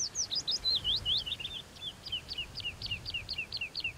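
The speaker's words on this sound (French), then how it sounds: "ils doivent écouter le chant des oiseaux" Small birds singing on a campus, a steady run of quick repeated chirping phrases over soft low background rumble, with no talk.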